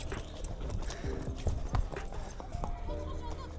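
Horse hooves clip-clop at a horse market as a lively horse rears and prances, with several close, uneven thuds. Someone talks over them.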